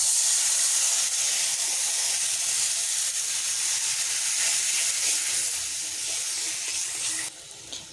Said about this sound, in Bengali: মশলাটা কষানোর জন্য দিয়ে দিচ্ছি পানি।